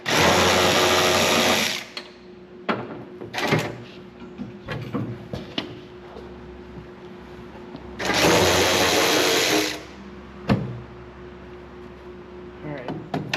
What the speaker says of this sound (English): We got this new DeWalt ratchet.